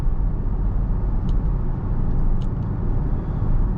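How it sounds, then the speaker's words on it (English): Inside a 2023 Audi Q3 on the move, a steady low road rumble and tire drone fill the cabin, with a couple of faint brief ticks above the continuous hum. "we'll get a pretty good idea of the road noise and things like that"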